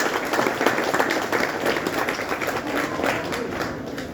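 A crowd at a satsang applauds steadily, a dense wash of clapping at moderate volume that carries on evenly throughout.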